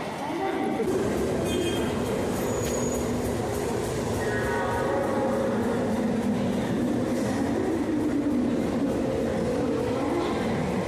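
An express train (Kalka Mail, Howrah to Kalka) rumbles steadily along the tracks with a continuous rolling roar and faint rhythmic clatter, heard from inside a carriage.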